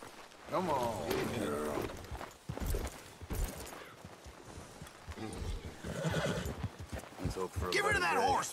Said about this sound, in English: Get rid of that horse!